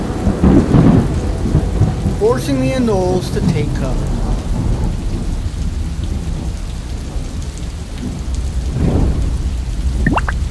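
Heavy rain from a terrarium rain system pours steadily alongside rolling thunder, a dense continuous wash of water with a voice speaking over it early on.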